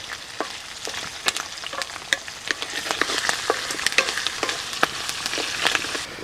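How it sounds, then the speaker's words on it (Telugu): Chana dal, green and dry red chillies and fenugreek seeds frying in hot oil, with a steady crackling sizzle and sharp spattering pops scattered throughout, close and fairly loud, no voices. "పచ్చి శనగపప్పు కూడా వేగనీయండి పచ్చిమిరపకాయలు ఎండుమిరపకాయలు అలాగే మెంతులు కూడా వేసేసుకుందాం"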